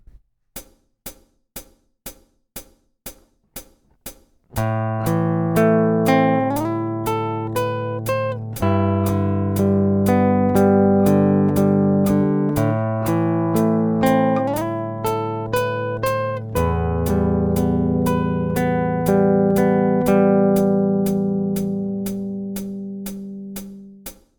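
A few soft clicks count in, then an acoustic guitar plays the first line of a song, a steady passage of chords and picked notes for about twenty seconds, ringing clearly and close.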